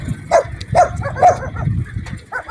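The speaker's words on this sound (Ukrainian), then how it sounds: "Смотрите, вот одни собаки бегают." Dogs roam a burned-out village and bark a few sharp times close by, mixed with yips and whimpers over a low rumble that sounds like a vehicle.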